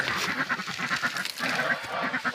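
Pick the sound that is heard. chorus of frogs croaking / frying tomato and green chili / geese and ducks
geese and ducks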